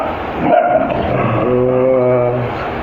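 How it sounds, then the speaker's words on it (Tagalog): A dog whines and yips close by, rising into a drawn-out, pitched whimpering howl, with faint background noise. "Yan na po yung aso ko."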